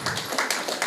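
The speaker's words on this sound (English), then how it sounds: "Give her a round of applause again." Audience applause at a UWI Global Campus independence event in St. Vincent and the Grenadines, a short steady burst of many hands clapping together at close-to-moderate distance.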